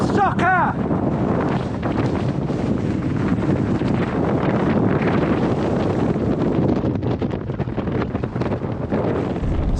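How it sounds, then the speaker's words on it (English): Strong, steady wind buffets the microphone at the mountain summit of Mam Sodhail in the Scottish Highlands, a loud continuous roar that never lets up, with a brief faint voice near the start. "Fighting that wind all day has been exhausting."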